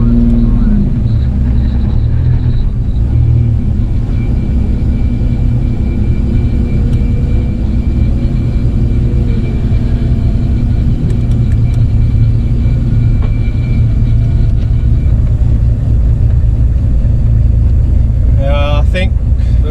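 A Ford XH utility drag car rumbles with a loud, continuous engine and road roar throughout, heard from on board, with a faint whine and clatter near the end.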